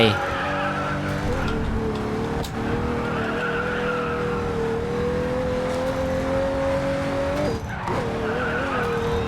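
A 2017 Pagani Huayra BC in the mobile racing game Racing Master holds a steady, high engine whine throughout, with tire skids and a brief dip as it shifts or brakes near the end; no talking is heard.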